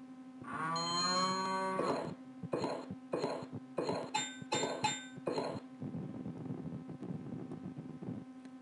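Cartoonish cow mooing in an educational rounding game with a lasso-roping cowboy: one long drawn-out moo, then a series of short clinking chimes over a steady hum, with no talk.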